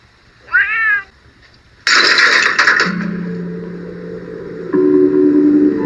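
A cat in the 1967 film Point Blank gives a single clear, rising meow. A loud crash of a dropped lava-lamp-like object follows, then a low steady hum in the scene.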